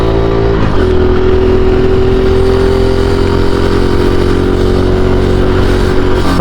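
A Honda Pop 110 motorcycle engine runs loud and close with a strange noise, a steady idling drone joined by a sustained whining tone that holds for several seconds.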